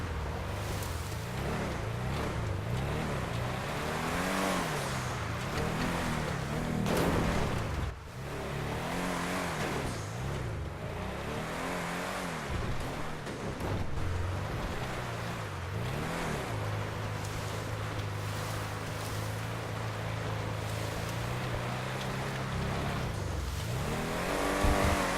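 A Benefactor Streiter sports SUV drives in Grand Theft Auto V on Mt. Chiliad, its engine droning steadily and rising and falling with revs and gear changes, then holding a steady note, with no talking.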